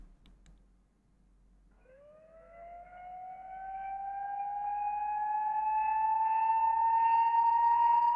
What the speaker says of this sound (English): Right after the drop, I use this siren sound.